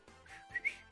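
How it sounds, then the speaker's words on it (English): A character in a ToHeart2 visual novel whistles, giving a short, faint, breathy run of a few airy notes with little else around it. "suddenly starts to whistle"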